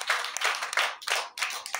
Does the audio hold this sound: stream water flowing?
no